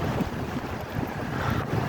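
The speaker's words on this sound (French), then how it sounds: "il y a un vent d'enfer." Strong wind buffeting a microphone while cycling, a steady rough roar with gusty swells throughout, with no voices.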